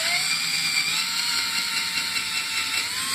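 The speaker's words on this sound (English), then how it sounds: "and then I just drill the hole" A steady, high-pitched whirring drone runs continuously, close and loud, a power drill boring a hole into wood, with no talk.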